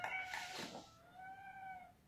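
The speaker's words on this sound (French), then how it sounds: "Ah bah ça c'était un long miaou ma chérie." A house cat gives a long, drawn-out meow up close, starting with a brief harsher cry and then stretching into a sustained wavering tone, with no other sounds.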